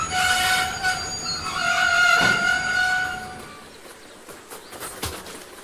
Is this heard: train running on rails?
yes